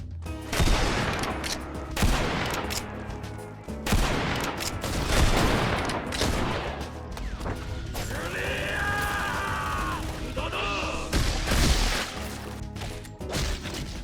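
Gunfire in the Western video game Bridger Western, sharp bursts of shots and crashing impacts coming in irregular clusters, with one tonal, ringing stretch partway through and no talk.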